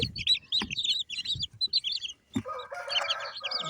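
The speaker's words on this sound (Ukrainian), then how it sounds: "Тут зараз п'ятеро каченят, ці що вилупила качка." High, chirpy peeping from a cluster of ducklings, continuous and close, with a few soft low thumps and a brief harsher chatter toward the end.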